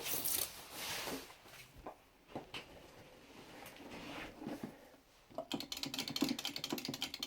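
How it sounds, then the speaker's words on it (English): Microswitch buttons on a Hori Premium Vewlix Taito PS4 arcade fight stick click sparsely at first, then get mashed in a rapid, dense burst of sharp clicks, close and fairly quiet. "nice and clicky micro switches. Nice mashy buttons."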